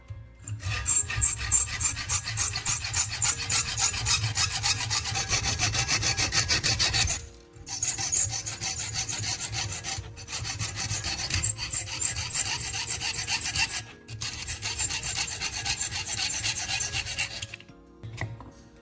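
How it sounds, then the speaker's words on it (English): A handsaw cuts square the sharp end of a flat piece clamped upright in a vise, loud close rasping strokes in fast steady rhythm, running in three long bursts separated by brief pauses, with no voices. "With a handsaw, cut off the sharp end so the edge is square."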